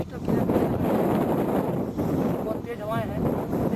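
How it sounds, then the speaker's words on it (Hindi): Strong wind buffets the microphone beside the frozen Kedartal lake high in the mountains on the Gangotri trek, a loud continuous rumbling roar with a faint voice partway through. "बहुत तेज़ हवाएँ हैं।"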